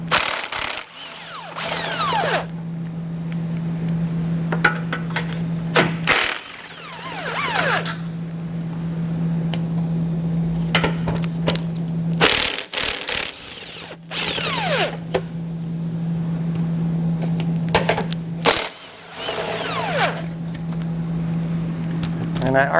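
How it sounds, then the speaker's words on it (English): Socket tool working 17mm bumper beam bolts loose on a 2021 Subaru: bursts of fast mechanical buzzing alternate with quieter gaps, up close, repeating about four times over a steady low hum. "So I'll grab our socket and get those removed."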